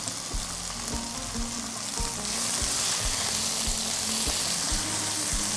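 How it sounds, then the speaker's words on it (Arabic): Mixed vegetables sautéing in a pan, a steady, close hissing sizzle with regular soft knocks of a utensil stirring, continuous and unaccompanied by speech. "نحمس كل الخضار مع بعض"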